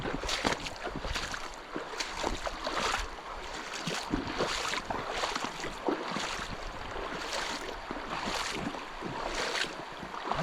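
Feet in wet shoes slosh through a shallow stream in a shady woodland, with regular splashing steps about once a second, close and steady over a flowing-water wash.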